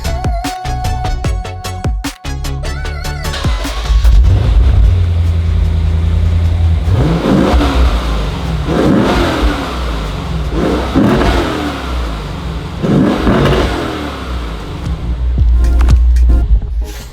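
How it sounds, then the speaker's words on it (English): A Lexus RC F on its stock exhaust idles loudly up close, then is revved in a series of about four sharp throttle blips that rise and fall. Each burst surges into a raspy roar before settling back to a rumbling idle. "So let's see how that stock exhaust sounds,"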